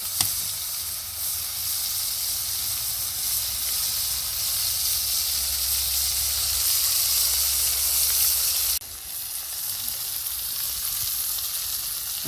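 Fish frying in hot oil in a pan for a coconut milk fish curry, a loud, even hiss and sizzle running close and unbroken throughout, with a slight drop in level near the end.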